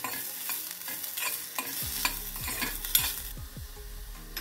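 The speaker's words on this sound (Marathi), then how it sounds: "धने पण छान लालसर भाजून घ्यायचे। त्याच्यासोबतच सगळे जिन्नस सोबतच भाजून घ्यायचे।" Coriander seeds and whole spices dry-roasting in a pan, a soft hiss under repeated scraping stirs and small clinks of the spoon against the pan, close and unhurried with no voices.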